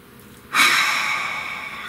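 A person takes one deep, audible breath that begins abruptly and fades slowly over about a second and a half, close and alone.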